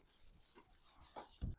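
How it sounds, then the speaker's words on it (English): Short, rasping strokes of sanding the top of a truck cab before spraying on Raptor liner, several quick back-and-forth scrapes close up, fairly quiet and without talk. "I just gotta sand the top of the cab now."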